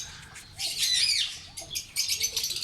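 Ring-necked parakeets inside a breeding box give close, high chirps and squawks with brief bursts of rustling or fluttering, loud and clear over a quiet background.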